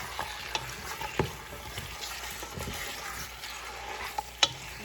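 Chicken sizzles in a pan with sautéed onion and garlic, a steady crackling fry broken by a few scraping stirs, close up and with no voices.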